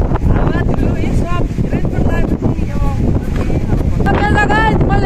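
Strong wind buffeting the microphone while riding on the roof of a vehicle, a constant loud rumble under lively voices talking and exclaiming throughout.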